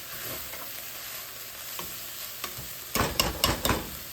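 Raw papaya stir-fried with curry leaves in a pan, a faint steady sizzle broken by several louder scraping stirs near the end, with no voices.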